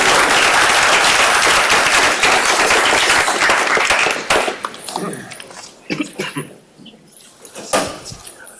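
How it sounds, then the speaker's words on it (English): A round of applause for volunteers at a biotech showcase event, dense clapping from a crowd for about four seconds, then fading to scattered claps and room noise. "let's give them a round of applause"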